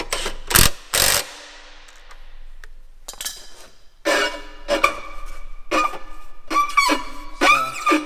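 A planter mechanism on a new planter build is turned after a bolt is loosened, giving a series of close metallic clicks, ratcheting clanks and rattles in irregular bursts with short pauses between.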